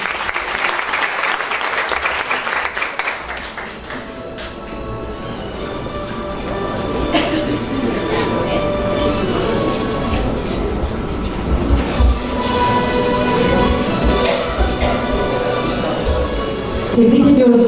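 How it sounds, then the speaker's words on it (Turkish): An audience at a hospital's 25th anniversary ceremony applauds a plaque presentation: dense, continuous clapping that fills the hall and swells slightly toward the end. "Plaket takdimini gerçekleştirmek üzere Sayın Kaya Balkan'ı alkışlarla davet ediyoruz."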